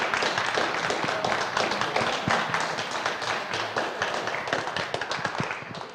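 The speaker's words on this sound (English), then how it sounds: "just a big round of applause once again for our top 3" Audience applause for the top three finishers at a Clio Cup race at Donington Park: dense, continuous clapping from a crowd at moderate level, steady throughout with no talk over it.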